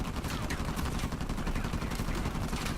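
Rapid bursts of gunfire from the video game U4 Warlords, a dense, steady stream of shots with no clear gaps, loud and continuous throughout.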